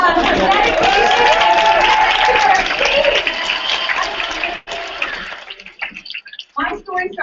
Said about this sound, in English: let's give the Indy team a round of applause for dedication